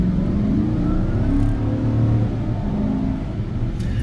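A 2017 Sierra pickup's 5.3 liter V8 engine revs up in a deep, throaty rumble that rises and swells and then eases back, loud and close with no one talking.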